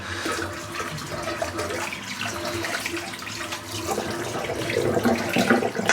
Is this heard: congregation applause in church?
no